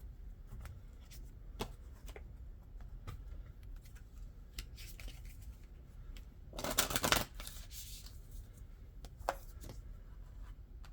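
A deck of oracle cards being shuffled, with soft scattered card taps followed by one brisk, louder riffle burst near the middle, then quieter handling.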